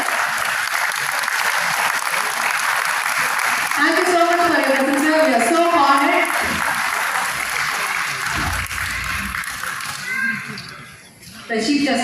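Audience applause welcoming actor Chinni Jayanth at a 2025 achievers award ceremony, a steady dense clapping that carries through the whole stretch, with a voice speaking over it in the middle and the clapping thinning briefly near the end.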